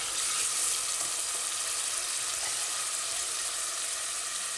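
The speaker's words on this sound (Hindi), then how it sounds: "घी में तला जाएगा।" Garlic fries in hot ghee with a continuous bright sizzle and crackle, close and steady throughout, with faint stirring and no voices.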